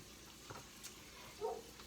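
Ginger frying in a hot pan gives a faint, steady sizzle with a few soft crackling pops, heard alone without any talking.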